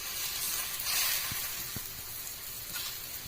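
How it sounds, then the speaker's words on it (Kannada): Paratha roasting on a hot tawa with a spoonful of ghee for a cauliflower (gobhi) parota, giving a steady close sizzle with faint scraping taps underneath. "ಇದರ ಮೇಲೆ 1 ಸ್ಪೂನು ತುಪ್ಪ ಹಾಕಿ ರೋಸ್ಟಿಂಗಿಗೆ ತವಾ ಮೇಲೆ ಹಾಕ್ತಾಯಿದ್ದೀನಿ"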